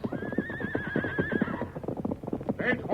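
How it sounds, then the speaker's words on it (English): Horses whinnying and clip-clopping in an old 1938 radio drama, a shrill wavering neigh over steady hoofbeats, then a second neigh near the end, with voices heard over the effects. "Eight horses run away."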